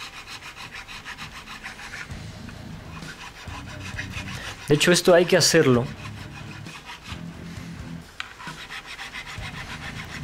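Rhythmic rasping strokes of sandpaper rubbing against a metal guitar fret on a Mexican Fender Stratocaster, repeated in short bursts, close and fairly loud, with someone speaking briefly between strokes.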